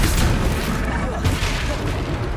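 A Confringo fire spell from the Hogwarts Legacy video game bursts in a loud, dense blast of booming noise that fills the whole moment, with a voice mixed in.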